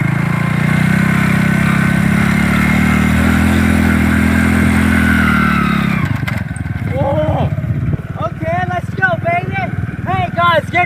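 A Hero Honda motorcycle engine, just kick-started, idles with a loud steady putter for several seconds, then drops lower as people talk over it.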